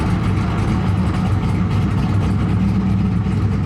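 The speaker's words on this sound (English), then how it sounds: "I'll bring up the RPM a little bit here" A 1976 Chevrolet Corvette C3 V8 runs just after start-up, a steady loud low rumble held at slightly raised revs, close and continuous with no talk.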